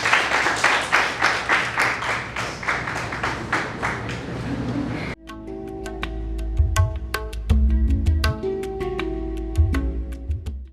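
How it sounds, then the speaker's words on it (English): Audience applause at a dental college graduates' reception: dense, rhythmic clapping for several seconds that then gives way to a few scattered claps over background music. "Bigger claps, guys."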